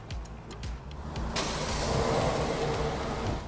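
A Kia car's engine starts by remote start from the key fob, a cranking catch followed by a steady idle hum that settles in and holds, heard nearby without talk.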